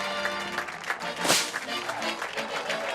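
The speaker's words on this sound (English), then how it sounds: "Please, ladies and gentlemen, give a round of applause." Dense applause from the crowd at the 2021 UCI Trials World Championships men's elite finals greets the podium winners. It is a steady wash of many hands clapping that swells briefly near the middle and then holds.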